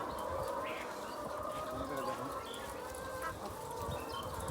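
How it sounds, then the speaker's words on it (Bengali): Hens clucking at a village poultry farm housing thousands of laying chickens, a steady dense chorus of overlapping clucks and calls under a constant background hum, moderately loud throughout. "এখানে কত হাজার হাজার মুরগি"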